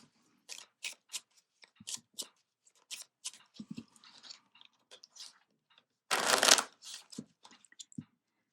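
Playing cards being shuffled and handled at close range, a series of short crisp riffling bursts with one longer, louder riffle near the end, separated by quiet gaps.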